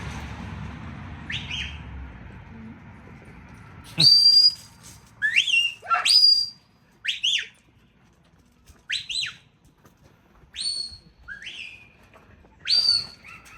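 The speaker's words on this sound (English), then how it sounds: "So that's a different set of whistles for her." Series of sharp, high shepherd's whistle commands for a sheepdog, given outdoors in the Wicklow Mountains of Ireland: about eight short rising and falling blasts in irregular bursts, loud and close, over a quiet background with no talk.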